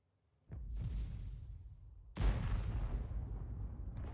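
A tank's ammo rack detonates in a video game battle: a deep boom lands, followed by a second, heavier blast that rolls on as a long, loud rumble.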